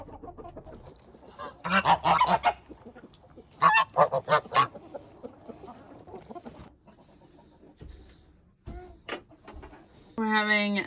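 Farm ducks call on a cold homestead morning before breakfast, giving loud, nasal honking bursts in short clusters near the listener, with people talking between the calls.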